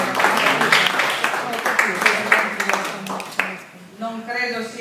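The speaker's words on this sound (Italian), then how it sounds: "Facciamo un applauso." Audience applause at a festival press conference, a short burst of scattered clapping mixed with voices that thins out after a few seconds as speech resumes.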